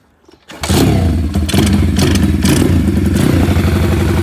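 A brand-new 140cc pit bike fires up after a kick start: a short scuffing lead-in, then the engine catches and runs loud and close with a steady, slightly uneven idle and light revving.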